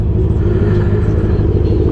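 A Honda CB650R motorcycle slipped into false neutral gives a loud, close, steady engine rumble with a low throbbing drone and no pauses.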